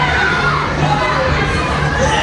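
Dense crowd of children shouting and screaming together, a loud continuous roar with no breaks, close and filling the space.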